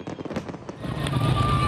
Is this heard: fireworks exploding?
yes